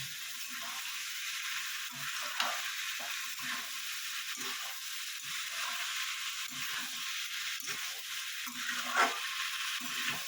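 Watermelon rind cooking with prawns in a pan gives a steady sizzle and frying hiss, with light stirring scrapes throughout and no one talking.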